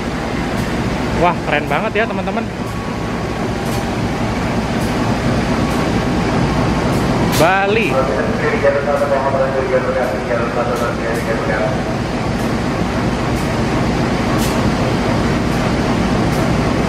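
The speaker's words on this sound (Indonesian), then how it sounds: "Lihat, teman-teman, ada kereta CC201 nih." A passenger train and a CC201 locomotive rumble through Jatinegara station, a loud, steady mechanical roar that runs throughout, with a person talking over it near the start.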